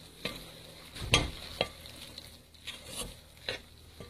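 A spoon stirs buttermilk batter in a bowl, making soft, irregular scraping and tapping strokes at close range in a quiet room.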